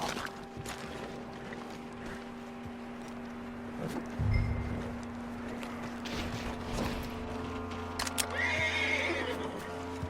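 A horse in Red Dead Redemption 2 whinnies and snorts while its hooves clop unevenly, fairly quiet and set against a soft steady hum and a low rumble midway. No voices.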